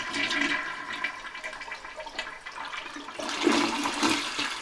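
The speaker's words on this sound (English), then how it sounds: "That's a fair flush right there." A hotel room toilet flushes with a rushing surge of water that swells, eases briefly, then surges again, close and clear with no talking.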